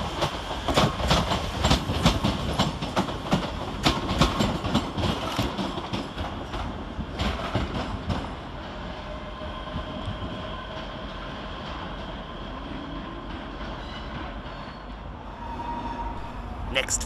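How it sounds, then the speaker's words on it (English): ScotRail unit 385032 working a service toward Glasgow Central at Edinburgh Waverley station, its wheels clattering rhythmically over rail joints at close range for the first half before easing into a steadier, quieter rolling hum. "Next following him is 385032, working the 1429 ScotRail service to Glasgow Central via Shotts."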